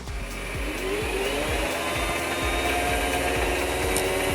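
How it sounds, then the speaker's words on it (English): A power tool deburrs the cut corner of an airsoft barrel with a steady high-pitched motor whine and hum, close and continuous throughout, with no voices. "I'm gonna deburr the corner here,"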